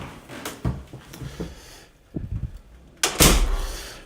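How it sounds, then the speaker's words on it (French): An armored apartment door opens with a couple of clunks and a latch click, then a louder heavy thud and swing near the end, close by in a quiet hallway. "Voilà la porte de l'appartement, porte blindée."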